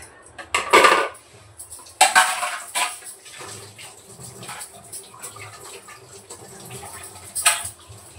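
Someone washes a food processor jar by hand, with close clattering of the container and utensils. Scrubbing scrapes and splashy rinsing water come in uneven bursts, without anyone talking.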